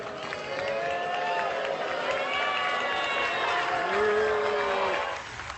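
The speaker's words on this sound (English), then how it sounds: "a mix of claps and boos, in fact, for the Vice President-elect" A theatre audience at a curtain call of the musical Hamilton reacts to the Vice President-elect with a mix of booing and clapping, the crowd noise loud and sustained, with drawn-out vocal tones rising over a bed of scattered claps.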